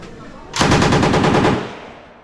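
An AK-47 fires a rapid, loud automatic burst in a video game, roughly a second of close, evenly spaced shots that fade into a short tail.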